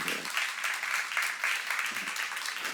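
Applause in a church seminar, a moderate patter of clapping from a modest gathering, somewhat distant and quieter, with individual claps faintly distinguishable.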